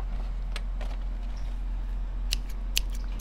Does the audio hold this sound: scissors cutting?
yes